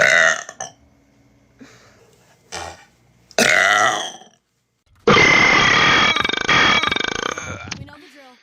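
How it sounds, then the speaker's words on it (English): A person lets out several loud, close burps, short guttural bursts early on, then a long, rough, drawn-out belch lasting several seconds, with brief talk between them. "I'm gonna try to get a real burp."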